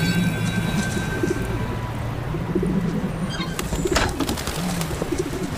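Pigeons coo close by in soft, repeated throaty rolls that sound continuously over a steady background hum, with faint chirps and a brief flutter of wings.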